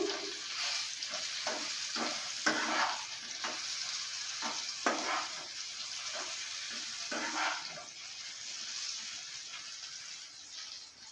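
Bottle gourd frying in a wok while being stirred, a continuous sizzle broken by repeated scraping strokes of a spatula at an irregular pace, close and moderately loud, no talking.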